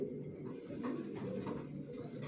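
Several pigeons of a racer breed, young birds still moulting, coo steadily and close by in a loft, with low throaty calls overlapping continuously and no one speaking.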